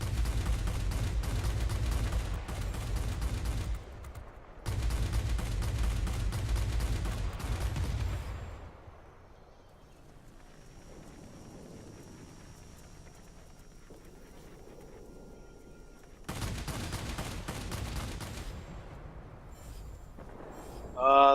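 Twin cannons of a Messerschmitt Bf.109Z Zwilling heavy fighter in a World of Warplanes dogfight hammer out two long, loud sustained bursts, then fall to a quieter engine drone before another heavy burst near the end.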